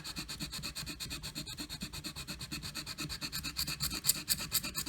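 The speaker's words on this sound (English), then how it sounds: "I'm gonna sand this area" Sanding a 1951 Gibson J-45 guitar neck with 80 grit sandpaper taped to a wood block, steady rhythmic back-and-forth rasping strokes, close and continuous.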